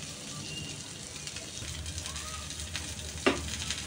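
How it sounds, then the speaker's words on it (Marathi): Mushrooms fry in a pan with a steady, close sizzle and crackle, and a brief clink of a utensil near the end. No one speaks. "आज मशरूम फ्राय करूया"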